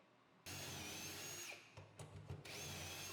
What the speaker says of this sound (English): drilling the shelf bin holes in the divider in the top section